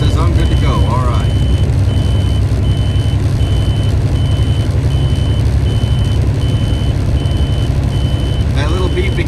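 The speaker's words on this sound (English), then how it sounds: "a little device down on my dashboard there that it flashes a green light and it beeps like that" Regular, evenly spaced electronic beeps from a dashboard transponder device repeat over loud engine rumble inside a vehicle, with a voice speaking briefly.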